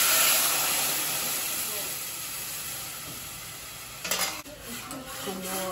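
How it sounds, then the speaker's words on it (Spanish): Chile frying in oil in a saucepan gives a loud, steady sizzle that eases slightly over time, then breaks into a few short clattering bursts near the end. "voy a poner un poquito de aceite. Aceite a su gusto. Y vamos a freír poquito chile"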